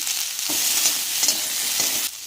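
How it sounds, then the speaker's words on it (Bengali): Cauliflower with carrots frying in oil, an even close hiss with a few soft stirring knocks, heard alone. "প্রথমে কপিটাকে ভেজে নেব আমার কপিটা প্রায় ভাজা হয়ে এসেছে ওর মধ্যে এবার গাজরগুলোও দিয়ে দেব"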